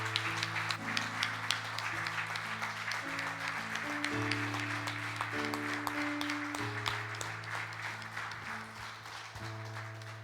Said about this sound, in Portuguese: E eu convido a igreja a aplaudir o Senhor por cada uma dessas mãos.